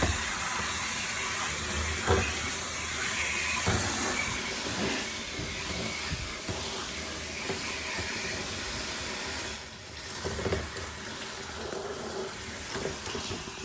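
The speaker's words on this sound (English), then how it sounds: "we're going to fill that with water" Water pours steadily into a container while model cars are being cleaned. A continuous rushing hiss runs for about fourteen seconds, with a few clunks and a brief dip near the end, close to the listener and with no voices.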